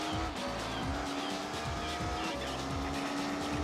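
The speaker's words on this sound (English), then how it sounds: "the engine noises and the drifting also" Gran Turismo 4 car racing, a steady engine drone with repeated pitch sweeps as the car shifts and drifts, and tire squeal running throughout at moderate level with no talk.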